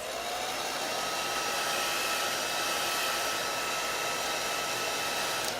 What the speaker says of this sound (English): And then I'm going to come in and dry this.